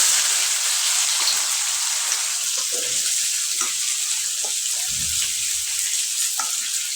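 Onion frying in a pan with cumin, an even close sizzle with a few soft stirring scrapes and clicks underneath.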